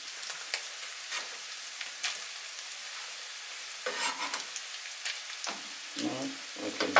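Paprika stirred and frying in a pan for a German potato and bean stew, a steady close sizzle broken by repeated scraping stir strokes, with no talk.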